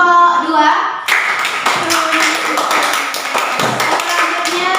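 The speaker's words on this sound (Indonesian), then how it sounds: "tepuk tangan untuk kelompok 2" Classroom of primary school pupils clapping for a group after its presentation, brisk clustered claps following a brief voice, fairly close and loud.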